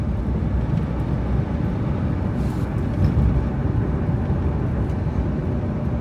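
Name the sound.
Hyundai Eon car wheel bearing noise while driving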